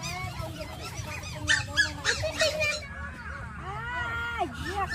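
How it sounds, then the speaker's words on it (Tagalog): A duck in a rural rice field in the Philippines gives a series of nasal honking quacks, close and fairly loud, mixed with people talking nearby. "Pato yan."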